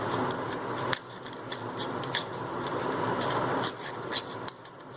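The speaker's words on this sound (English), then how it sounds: "Now just cut off the extra shape plastic with scissors." Repeated crisp snips and crinkly cutting sounds from scissors working through plastic, close by, over a steady background hum.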